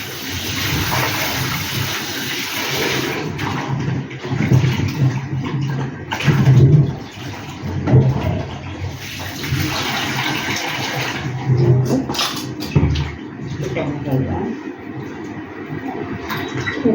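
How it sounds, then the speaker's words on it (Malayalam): Water splashes and swirls in a bowl while food is rinsed, a steady rushing wash with sloshing surges and occasional clinks of the vessel, close and continuous. "2 വെള്ളം കഴുകാം, എന്നിട്ട് ഉപ്പിട്ട് കഴുകാം."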